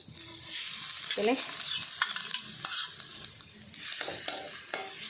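Grated carrot frying in ghee for carrot kheer sizzles steadily in a pan while a spoon stirs it, with several scraping strokes breaking through the constant hiss, close and fairly loud.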